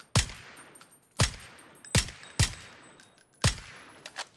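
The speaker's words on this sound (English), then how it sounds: "He'll hear the bullets whizzing by him, but no idea." Gunfire in the PUBG video game at an enemy: five sharp, loud shots spaced irregularly about a second apart, each with a short ringing decay over faint background noise.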